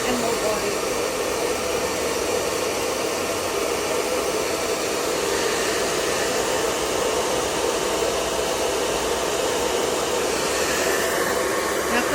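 A handheld hair dryer blows steadily and loudly on a dog named Poppy's coat during grooming, a continuous broadband whoosh lasting throughout with faint talk underneath.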